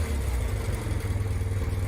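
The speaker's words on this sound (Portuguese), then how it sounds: "Reparem como a moto sente o giro do motor." A 1960s-70s faired motorcycle engine throbs loudly up close, its pulsing beat rising slightly as the revs climb, with no voices.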